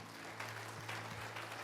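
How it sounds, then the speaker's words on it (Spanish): A church congregation applauds at a Sunday service, a faint, steady patter of clapping over a low hum. "Fuerte aplauso para gloria de Dios."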